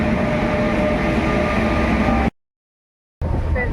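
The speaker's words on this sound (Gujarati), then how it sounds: "બેઠી ગયા છે ટ્રેનમાં" Steady rumbling rattle of a moving passenger train carriage on the way to Dwarka, loud and continuous, cutting out abruptly for a moment before resuming.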